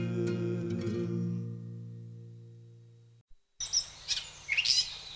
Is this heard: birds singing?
yes